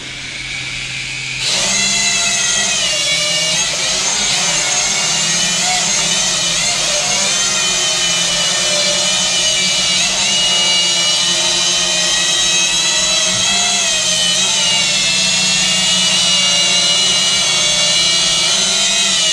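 A TX8D drone flies indoors, its rotors producing a loud, steady high-pitched whine with shifting harmonic tones that starts after a brief quiet moment and holds for the rest of the time, with no talking.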